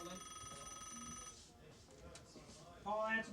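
A telephone bell rings in a steady, bright tone for just over a second, then stops, leaving a murmuring background with a brief louder burst near the end.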